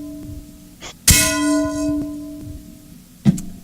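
A bell is struck once with a bright clang that rings on in a sustained, slowly fading tone, followed by a second, softer knock near the end.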